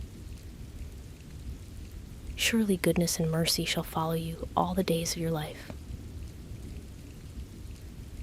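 Steady rain falls with a soft, continuous hiss and a low rumble beneath, while a calm, quiet voice talks over the middle stretch; the rain carries on alone before and after.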